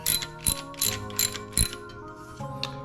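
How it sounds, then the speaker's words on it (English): A ratchet with a deep socket backs out exhaust bolts on a Low Rider ST motorcycle, giving several short bursts of rapid, close mechanical clicking. "But I'm gonna use the deep socket for this one. Just back those out."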